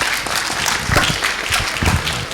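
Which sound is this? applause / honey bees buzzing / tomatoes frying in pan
applause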